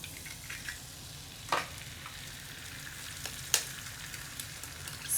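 An egg sizzles in a pan for an English breakfast, a steady soft frying hiss with two sharper scraping clicks from a turner or spatula, close and quiet with no voices.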